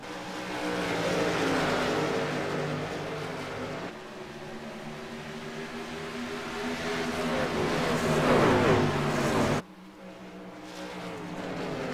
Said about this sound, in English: You hear that truck on the outside.